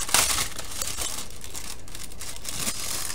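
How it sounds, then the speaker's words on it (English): Small plastic bags of round diamond painting drills crinkle and rustle continuously as they are handled and opened close by, with a few sharper crackles. "Sorry for the crinkling."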